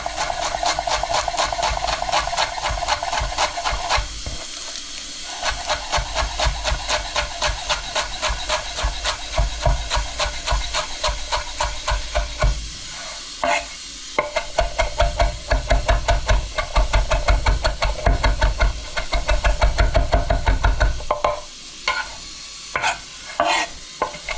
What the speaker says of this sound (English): So first I'm going to chop the parsley.